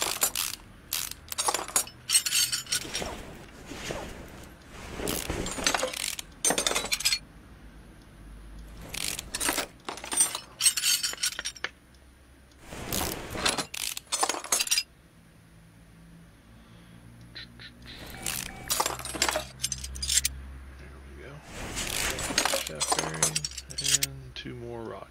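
Metal parts clink and jangle in bursts as rod caps and crankshaft bearings are removed from an engine being fitted with a Hemi, with repeated close metallic taps and rattles and someone talking at intervals.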